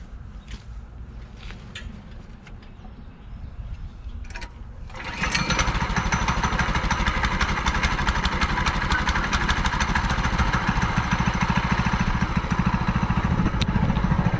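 Coleman KT196 go-kart engine: a few quiet handling clicks, then a pull-start catches on the first try and the small engine runs with a steady, loud, buzzing putter up close.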